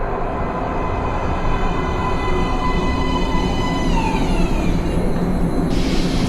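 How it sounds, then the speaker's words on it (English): A subway train in the video game Metro Last Light pulls into a platform with a loud, steady rumble and a rising and falling metallic whine from the wheels, with no voices over it. "Please step away from the edge of the platform. Train coming in."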